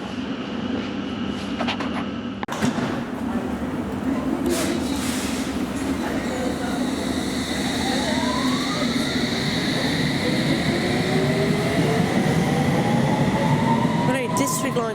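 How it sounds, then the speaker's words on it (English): A London Underground District line train pulls out of Upminster Station on a winter afternoon, a loud close rumble with rising motor whine and a faint wheel squeal as it gathers speed, with platform voices audible underneath. "I believe this train will leave for Ealing Broadway"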